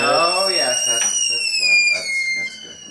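A stovetop kettle shrills as water boils for tea, a loud sustained two-tone whistle holding steady and slowly sliding lower, with people talking over it.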